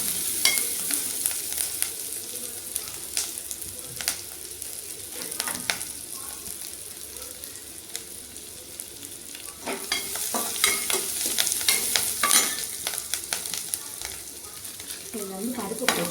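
Dal fries in hot oil under constant stirring, giving a steady crackling sizzle with frequent spoon scrapes and clinks close by, and nobody speaking.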